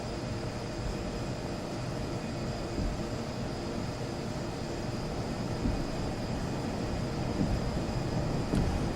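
Simulated airliner takeoff roll in the FSX flight simulator game, a steady, broad engine roar and rumble that holds constant throughout with no talk over it.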